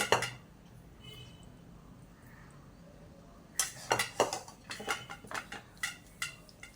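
Metal utensils clink and scrape against a cooking pot as banana flower curry is served, a quiet stretch giving way to a series of close, irregular knocks and clatters.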